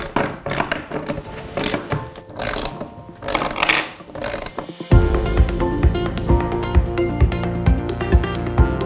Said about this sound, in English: So I've got a little torque wrench here.